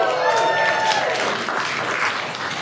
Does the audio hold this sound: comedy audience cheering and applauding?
yes